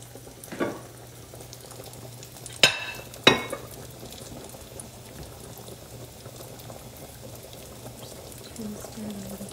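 Food fries in a little oil poured into the crevices of a pan, a steady low bubbling sizzle broken by a few sharp clatters of cookware.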